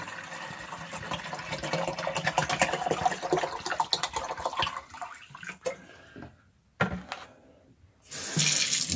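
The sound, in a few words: filling a container and pouring liquid down a drain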